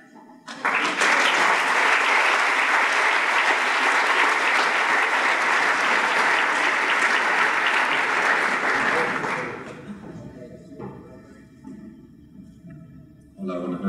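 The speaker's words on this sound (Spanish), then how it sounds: "recibamos con un fuerte aplauso a José Garasino" Loud, dense applause from the audience at the Gamelab Barcelona 2012 award gala, rising abruptly, holding steady for about nine seconds, then cutting off into quieter room sound and voices.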